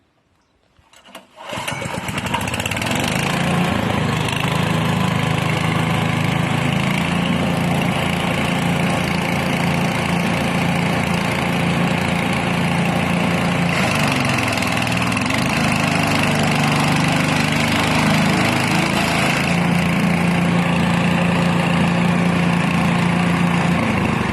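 The petrol engine of an L2 chopper machine starts up and runs loud and close for over twenty seconds, a steady rough drone with small shifts in pitch and load.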